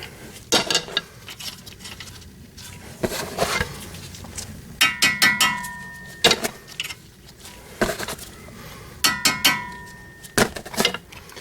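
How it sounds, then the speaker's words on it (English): Sharp metallic taps from a small hammer on a car suspension strut, struck in irregular bursts of two or three, with clinking rings between and no voices. "By using a little hammer like this, you're not going to mushroom anything"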